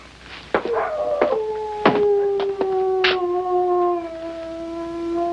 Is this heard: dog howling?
yes